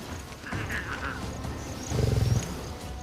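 A lion gives a short, low roaring grunt near the middle, fairly close, over a steady outdoor background hiss, with a fainter grunt earlier on.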